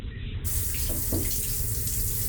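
Steady rushing water from a running shower in an apartment bathroom, a continuous hiss that fills the whole span at an even level, with no voices.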